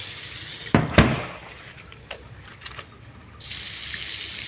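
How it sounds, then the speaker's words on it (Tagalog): Water gushes from a tap in a steady stream, interrupted by a couple of sharp knocks, then the flow cuts out briefly and resumes. "Gripo mana? Gripo yun yun."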